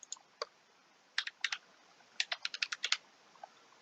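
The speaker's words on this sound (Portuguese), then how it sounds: "vocês vão digitar o número do CPF de vocês e em seguida a senha" Keys clack on a computer keyboard as a number and password are typed, a few isolated presses followed by a quick burst of rapid taps, close and crisp in an otherwise quiet room.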